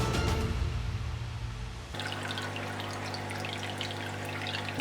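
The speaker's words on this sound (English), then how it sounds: "Oh no, the waterfall doesn't work either." Water from a small aquarium waterfall in a heavily planted goby tank trickles and splashes steadily and close by, over a low constant hum, with no voices.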